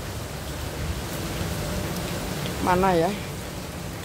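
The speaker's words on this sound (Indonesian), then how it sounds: "Tapi enak kalau hujan nih." Heavy rain pours down in an even, continuous hiss throughout, with a person briefly speaking over the downpour near the end.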